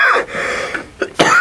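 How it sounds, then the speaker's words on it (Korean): A sudden cough bursts out near the microphone in a broadcast booth during horse racing commentary, a couple of sharp rough expulsions followed by a quick catch of breath. "갑자기 기침하신 건데 오늘 맞네"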